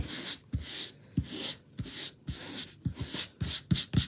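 Chalk transfer mesh is rubbed down onto a wooden block in firm back-and-forth strokes, a close scratchy rasp repeating about every half second, each stroke ending in a soft thump, with no talking.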